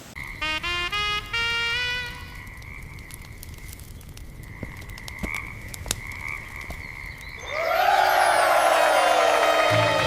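Loud rhythmic croaking of frogs in Ireland's Ring of Kerry, a rapid repeating call at first, then a steady chorus swelling into a dense, noisy din near the end.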